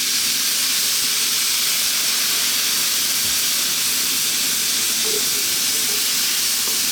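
Loud continuous hissing and sizzling of water steaming in a hot pan, steady and close with no talking.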